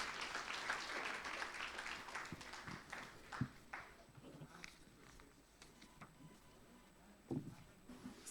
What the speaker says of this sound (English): I would like to invite all the audience to make applause to gratitude to our panelists